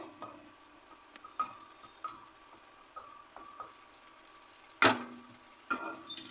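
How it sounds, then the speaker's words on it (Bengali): Amra chutney with bay leaf and cardamom being stirred and fried in a pan, a low steady sizzle broken by a few scraping stirs and one sharp clatter near the end. "এবার আমি খুব ভালো করে এটাকে নেড়ে চেড়ে নেবো একটু ভেজে নেব"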